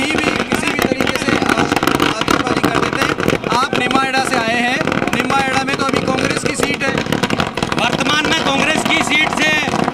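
Fireworks crackle and pop in a dense, loud barrage at a street welcome celebration for the Rajasthan BJP president, mixed with crowd noise, vehicles and people talking throughout.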